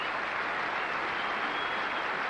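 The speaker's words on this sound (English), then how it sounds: "It's a good substantial crowd at Edgbaston here, giving him a warm reception." A large cricket crowd at Edgbaston claps steadily for Graham Gooch during the 1990 England v New Zealand Test, a dense, even wash of applause that holds at the same level throughout.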